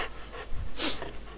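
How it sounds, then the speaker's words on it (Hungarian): An enemy in the horror video game Cry of Fear panting, rapid heavy breaths with a sharp hissing exhale, close and loud with no speech over it. "Eddig ez a legbetegebb enemy amúgy, hogy így liheg, és sikít"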